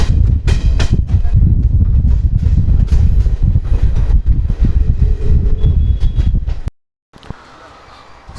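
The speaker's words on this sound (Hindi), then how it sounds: "train has achieved a speed of more than 100 kilometers per hour" The 12209 Kanpur Central–Kathgodam Garib Rath Express runs at over 100 km/h. A loud, continuous rumble of wheels and wind with rhythmic clatter plays up close, then drops abruptly to a quieter hiss near the end.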